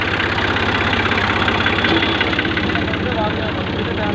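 A tractor engine idles steadily with a loaded trolley hitched behind, a loud, close, even low throb with a faint knocking pulse that runs unbroken from start to finish.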